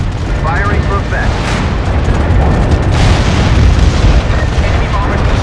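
Artillery barrage in the video game MAG: heavy, rumbling booms and blasts roll continuously, loud and close, with faint radio-style voices underneath.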